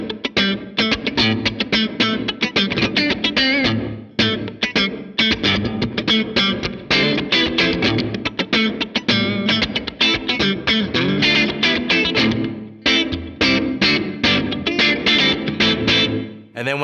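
An electric guitar played through a reverb effect set low is strummed in quick, percussive chopped strokes, loud and continuous, with short decays and brief pauses between phrases.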